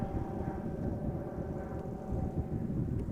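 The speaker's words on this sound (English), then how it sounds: "the Embraer 190 arriving from Brussels is already nearby" Embraer 190 airliner arriving from Brussels at Amsterdam Schiphol, a low, continuous engine rumble at moderate distance, steady throughout and blended with some wind buffeting.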